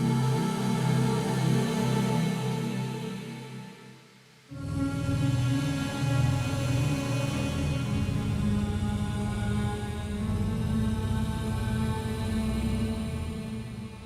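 Dark, eerie synth chords built on a dominant seventh with an added flat thirteen, in a DOOM-style metal setting, sustain densely and loudly, drop out briefly near the four-second mark, then return and hold steady to the end with no voices.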